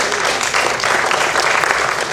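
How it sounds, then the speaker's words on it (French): Audience at a cultural event applauding, dense and steady clapping from many hands, loud and continuous without any talk. "Veuillez les applaudir."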